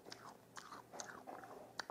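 Crunchy chewing of a crisp dalgona sugar topping on a latte at a cafe, a soft close-up series of irregular brittle crackles and crunches.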